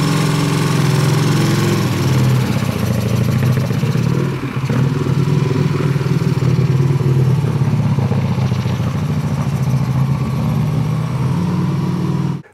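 A Godet-Egli-Vincent motorcycle with a big engine warming up, a loud, steady low throb with mechanical clatter, briefly dipping midway before settling back, close by and without talk until it cuts off.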